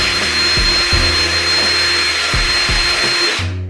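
A power drill boring a hole in plastic for a DIY bearing cleaning kit, a loud continuous high whine with brief dips as the bit bites, close and steady before cutting off at the end.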